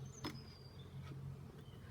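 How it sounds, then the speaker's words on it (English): Guard bees buzzing at the front entrance of a national beehive, a faint low drone with brief passing buzzes from individual bees flying close. "you've got all the guard bees at the front entrance"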